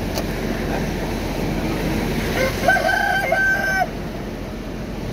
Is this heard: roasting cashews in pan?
no